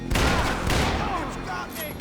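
Heavy gunfire in the Max Payne 3 shooter game, a loud burst of overlapping shots and booming impacts at the start, easing into a rumbling tail as voices shout over it.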